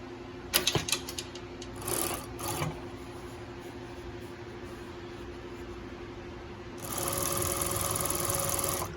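Industrial semi-cylinder coverstitch sewing machine stitching, a few short rattling bursts followed by a steady whirring run near the end, with a faint motor hum underneath throughout.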